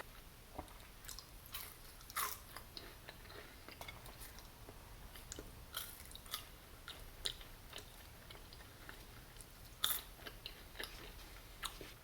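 Crispy French fries with ketchup are bitten and chewed close to the mic, with sharp crunches scattered over quiet, wet mastication and no talking.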